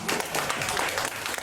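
Audience applause breaks out after a speaker's introduction at a meeting, a dense, steady clatter of many hands clapping throughout the short moment.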